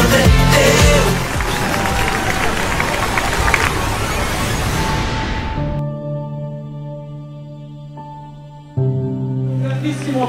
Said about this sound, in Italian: Un grandissimo applauso per tutti i ballerini che questa sera sono saliti su questo palco.